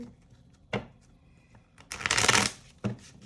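Tarot cards riffle and slap together in a quick shuffle, a brief burst of crisp fluttering between a few soft taps, close by.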